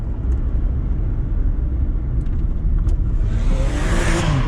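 A Lamborghini Gallardo LP560-4 drifting on a track, its engine roaring steadily up close and revving higher toward the end amid broadband tyre and road noise, with no talk.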